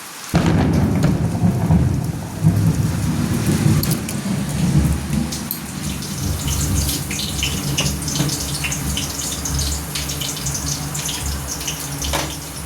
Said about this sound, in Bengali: মেঘ চমকাচ্ছে